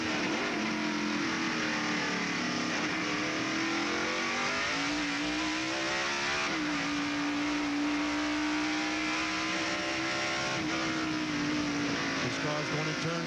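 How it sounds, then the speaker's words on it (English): NASCAR stock cars race on the Sonoma road course, engines roaring loud and sustained with rising and falling pitch as they accelerate and downshift, while a commentator talks over the noise. "we're watching Rusty Wallace in the Miller Genuine Draft Ford, trying his best to stay in front of Ricky Rudd"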